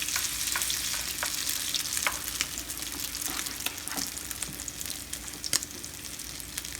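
Salmon croquettes frying in a pan, a dense steady sizzle of hot oil with occasional sharp pops and crackles, close up and fairly quiet.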